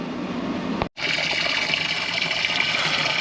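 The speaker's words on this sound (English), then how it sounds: "The other thing that's changed is the outflow of water." Water pours steadily from the air conditioning outflow of a sailboat in Mexico, a continuous close gushing splash with one brief sharp dropout near the start, then a strong steady flow to the end.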